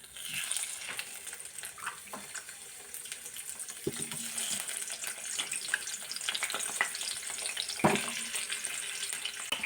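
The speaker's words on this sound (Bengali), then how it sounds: "এখানে আলুটা আমি ভেজে নেবো। তেলটা গরম হয়ে গেছে।" Potato pieces fry in hot oil with a steady, close crackling sizzle, broken by a few sharper spatters and clinks of stirring, with no voices.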